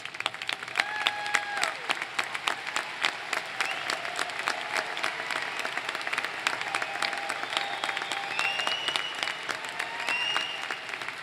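Sustained applause fills a graduation ceremony hall, an audience clapping steadily throughout with no talk over it, a few faint whistle-like tones rising above the dense patter.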